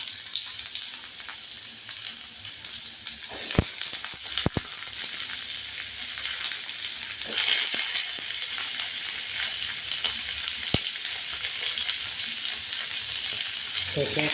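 Ridge gourd and potatoes fry in a pan with a loud, steady sizzle throughout, broken by a few sharp clicks of stirring.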